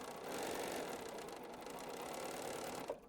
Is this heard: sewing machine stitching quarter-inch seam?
yes